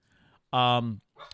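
A dog barks at a pillow indoors, one loud drawn-out bark, close by and alone, with quieter sounds just before and after.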